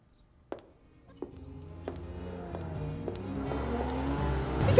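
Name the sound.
car driving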